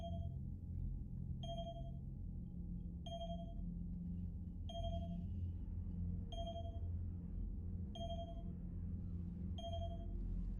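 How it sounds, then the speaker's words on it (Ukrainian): A Mass Effect 3 incoming message alert repeats as seven evenly spaced electronic pings about every 1.6 seconds, clear over a steady low ambient game rumble. "Вхідне повідомлення."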